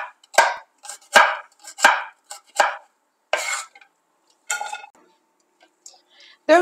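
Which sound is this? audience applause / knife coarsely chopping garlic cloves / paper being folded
knife coarsely chopping garlic cloves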